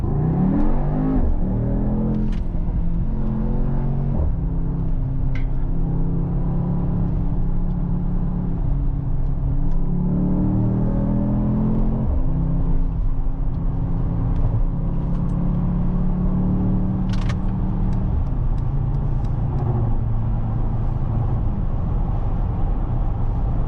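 Mercedes-AMG GT 63 S E Performance hybrid pushed hard through a corner, a continuous loud engine and road rumble with rising and falling revs as it accelerates out, heard from inside the car without talk.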